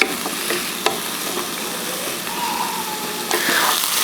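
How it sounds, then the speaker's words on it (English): Onions and garlic sizzle steadily in a pan for vegan black bean tacos, with a few sharp utensil scrapes as they are stirred, close and moderately loud with no talking. "Stir everything together and let cook for just about 3 to 5 minutes until onions have softened."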